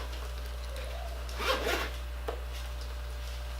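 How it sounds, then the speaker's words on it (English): A zipper on a rose gold makeup case being pulled open, one quick rasping run, close up and alone, with a faint click afterward over a steady low hum. "And then it's got a zipper."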